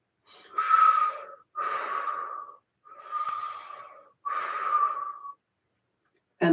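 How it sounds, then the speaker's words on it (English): Slow, deliberate breaths during a yoga session for fascia: four long, close, airy breaths, drawn in through the nose and let out through the mouth, separated by short silent pauses. "In through the nose, out through the mouth."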